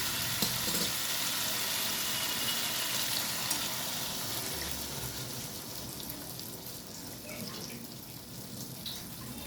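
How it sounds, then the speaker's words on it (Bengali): Water poured into a hot, sizzling pan while gathi kochu (taro) cooks, giving a loud, steady hiss and rush that tapers off slightly toward the end, with no talking. "এই সময় দিয়ে দেবো জল।"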